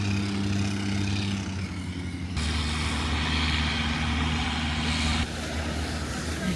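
Long-tail boat engines in Phang Nga, Thailand, a continuous loud droning motor rumble carrying over water, swelling and easing as boats pass, with no talking.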